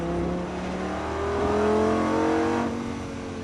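A Lamborghini Gallardo engine revs up on a racetrack during a driving course, a loud close roar that swells in pitch and volume toward the middle and then eases off.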